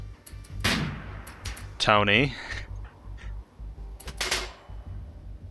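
Gunfire during a firefight in the colony game Rimworld: a few scattered, fairly quiet sharp shots, with a brief chirping tone in between and quiet gaps.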